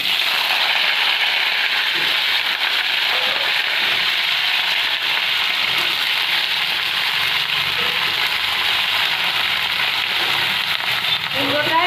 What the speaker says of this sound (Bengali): কুমড়োগুলো দিয়ে দেব।